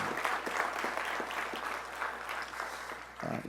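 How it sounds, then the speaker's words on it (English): An audience at a police promotions ceremony for sworn officers and professional staff gives sustained applause, an even wash of many hands clapping throughout, moderately distant and fairly quiet, with a steady low hum underneath. "give all of our professional staff and all of our ranking officers a big round of applause"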